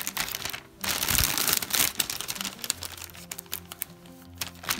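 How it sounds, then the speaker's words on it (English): A small plastic bag crinkles and rustles in close, steady bursts while a papercraft Easter basket made from one 12x12 cardstock sheet is slipped inside, with brief crackles and quieter handling moments between. "I'm going to go ahead and put this in a little plastic bag."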